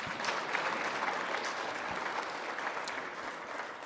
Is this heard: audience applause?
yes